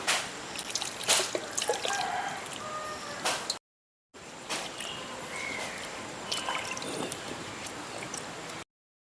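Water is poured lightly to rinse a cooking vessel used for peanut chutney. Faint trickling and irregular drips and splashes continue at close range, broken by a brief silent gap.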